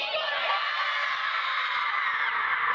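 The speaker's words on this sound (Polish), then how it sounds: "Drużyna, która głośniej krzyknie hip hip hurra," A team of children shouts together in a loud, sustained, high-pitched group cheer during a team contest, the voices blending into one continuous yell.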